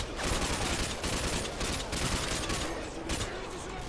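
Rapid gunfire rattles in Call of Duty Modern Warfare 2 gameplay, dense overlapping bursts of shots and explosions filling the whole stretch at close, loud level.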